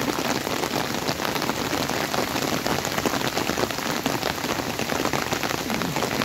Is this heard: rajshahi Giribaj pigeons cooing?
no